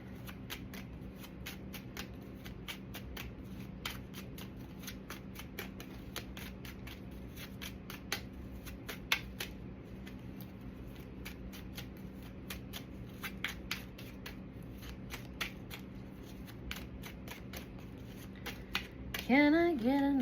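Tarot cards being shuffled, a long run of quick, crisp riffling snaps at a steady rhythm, close and fairly quiet, with a brief louder rustle near the end.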